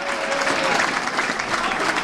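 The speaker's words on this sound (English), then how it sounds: "and the crowd rise as one." Football crowd at a Dulwich Hamlet v Braintree Town National League South match rising and applauding at half-time, a dense, steady wash of clapping and cheering held loud and even throughout.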